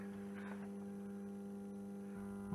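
A scrap arc welder gives a steady, faint electrical hum with a buzzing mains tone, holding constant and unchanging throughout with no other activity.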